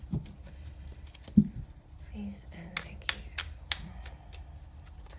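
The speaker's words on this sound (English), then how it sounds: "One more shuffle" A deck of tarot cards is shuffled in a quiet indoor setting, with soft riffling and patter bursts of the cards close by, and someone speaks briefly between them.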